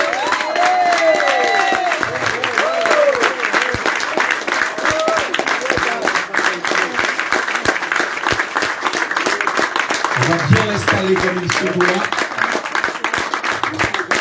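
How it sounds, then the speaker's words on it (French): An audience at a filmed radio event in Martinique keeps up lively applause and some cheering while a presenter's voice speaks over it. "On applaudit encore bien fort."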